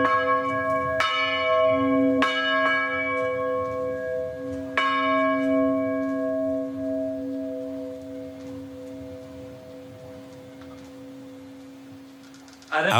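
Church bell named Vicenta, cast in 1705, rings with several resonant strikes around the first five seconds, each leaving a long, humming, harmonic decay that fades slowly; a brief new strike lands at the very end.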